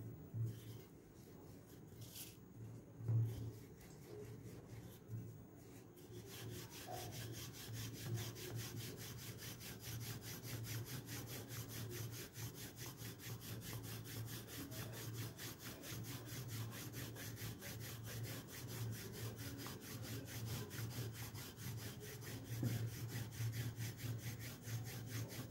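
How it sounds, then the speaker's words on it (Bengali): A rolling pin works flour-dusted atta dough in quiet, rhythmic rubbing strokes that repeat steadily over a low background hum, with no one speaking. "এবার দেখো আবার এটাকে আমি বেলে নেব, একটু গুঁড়ো দেবো"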